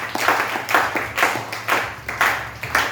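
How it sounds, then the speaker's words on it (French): A church congregation claps in rhythm to acclaim the Lord, a loud, close, regular beat of about two claps per second with no talk over it. "On acclame le Seigneur."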